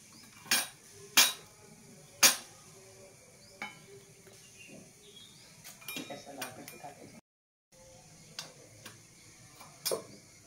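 A spoon mixes wet bhel ingredients in a bowl, sharp scattered clinks and scrapes at irregular intervals, close and fairly quiet, with soft rustling between.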